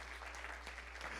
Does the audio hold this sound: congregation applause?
yes